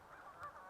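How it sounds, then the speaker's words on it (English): A goose honks in a few short nasal calls, close and fairly loud, with no talking over it. "and a goose."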